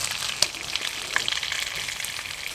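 Spicy sausages sizzle in oil in a pan while camping at an off-grid log cabin. The crackle is a steady, close hiss with scattered sharp pops and no talking.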